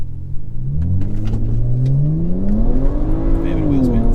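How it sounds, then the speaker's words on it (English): BMW 335i with the N54 engine pulling hard in sports mode with traction control off, engine note climbing steadily through a single gear as the tyres spin, loud and close inside the cabin with occasional voices underneath. "Fair bit of wheel spin."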